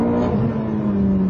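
A Ferrari F430 engine pulls under throttle, a loud, steady, smooth drone holding a sustained tone close by.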